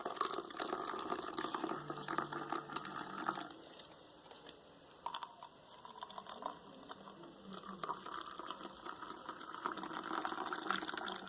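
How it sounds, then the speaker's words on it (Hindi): Hot milk poured from a height into a cup of coffee to raise foam: a continuous, splashy liquid stream with soft pattering, moderately close, that dips briefly and then runs on steadily. "अब गर्म दूध डालेंगे इसके अंदर। थोड़ा सा ऊपर करके डालेंगे ताकि इसके अंदर झाग बने।"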